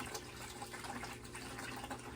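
Water is siphoned out of a home fish tank, giving a faint, continuous trickling and gurgling flow with small fluctuations. It is quiet and close, and no voices are heard.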